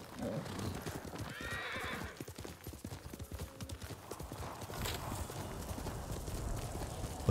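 A horse in the video game Ghost of Tsushima gallops with steady clip-clop hoofbeats and lets out a neigh partway through, heard close with no talk over it.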